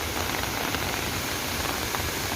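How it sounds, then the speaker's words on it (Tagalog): Heavy rain pours down steadily around city buildings near a landslide site on Yiu Tung Street, a dense, even hiss with no letup and no voices. "Malakas yung ulan, kaya yan."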